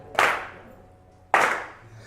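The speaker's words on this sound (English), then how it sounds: "You're clapping very good." Two sharp, loud claps about a second apart, each ringing out briefly in a reverberant room, with no voices.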